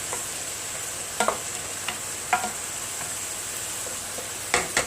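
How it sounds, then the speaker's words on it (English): Sauce for homemade spaghetti cooks down in a pan with a soft, steady low sizzle, while a few brief spoon scrapes and clinks come through as it is stirred now and then. "Let's mix this around a little bit. And as you see, it's cooking down"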